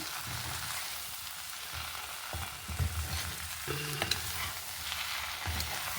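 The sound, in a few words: stirring aloo capsicum curry in a pan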